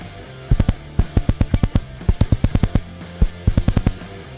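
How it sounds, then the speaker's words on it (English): Ignition spark plug firing multiple sparks at cranking speed, a rapid run of sharp ticking snaps in short irregular bursts over a low engine-like hum, close and fairly loud with no talking. "after the first spark, there's a short delay and then a second spark is generated"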